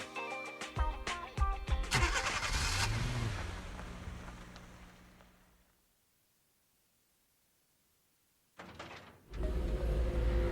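Engine of a business car starting up in the video game Zenless Zone Zero, a rising mechanical whir and rumble among game sounds, fading to silence before a sudden loud burst of noise returns.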